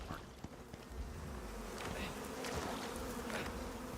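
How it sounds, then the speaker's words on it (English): Bees buzz steadily and close by in the survival game Icarus, a continuous droning hum with faint ticks and rustles mixed in. "Damn bees, leave me the hell alone"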